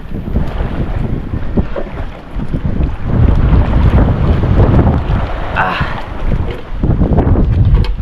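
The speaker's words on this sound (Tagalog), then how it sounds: "lakas ng hangin na naman" Strong wind roars and buffets the microphone steadily for several seconds, with water sloshing faintly underneath and no speech.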